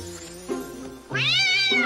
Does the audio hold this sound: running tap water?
no